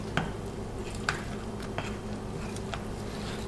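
Blueberry pancake batter is stirred lightly by hand in a bowl, giving soft wet squishing strokes with a few sharper taps of the utensil, close and quiet over a faint steady background hum.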